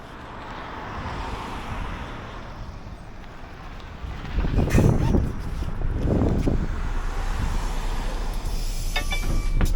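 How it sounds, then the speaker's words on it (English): A city bus in Frederikshavn, Denmark, rumbles up close to a stop with a low engine drone and rushing noise, swelling midway, over steady wind and hiss. "I was very happy to see the bus turn up perfectly on time"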